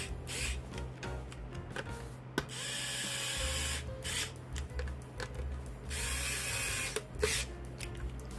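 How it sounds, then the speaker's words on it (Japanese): Screws are driven to fasten a circuit board into a Toyota 2000GT model car kit, with close ratcheting and whirring tool bursts interrupted by short pauses and small clicks. "ここをネジ BP を使って固定してあげます"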